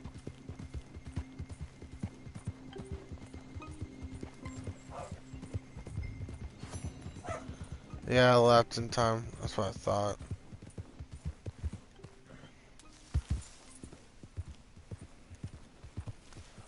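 Repeated hoofbeats of a galloping horse in Red Dead Redemption 2 drum steadily over game music, with a loud whinny near the middle and someone talking briefly toward the end.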